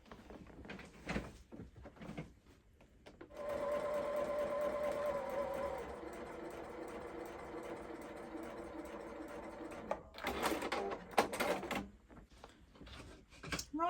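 A sewing machine running its longest straight running stitch around a curved hem, a steady whirring motor for several seconds in the middle, framed by handling clunks and rustles before and after.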